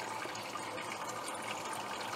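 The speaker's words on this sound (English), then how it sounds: "I had to give this a good stir" Liquid sloshes and swirls steadily as wort for a 100% wheat IPA is stirred during brewing, a continuous close watery churning with no talk.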